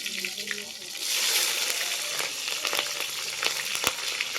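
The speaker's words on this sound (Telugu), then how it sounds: "ఇప్పుడు నేను కరివేపాకు వేసుకుంటున్నాను పచ్చిమిరకాయలు కూడా వేసుకుంటున్నానండి" Curry leaves and green chillies drop into hot oil in a village-style kitchen, setting off a burst of crackling sizzle that continues as a steady fry, with a voice talking briefly at the start.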